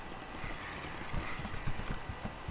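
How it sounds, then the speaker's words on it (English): A horse in Minecraft hardcore mode clops along with a steady rhythm of close hoofbeats, and a brief soft whinny may be mixed in. "Horsey."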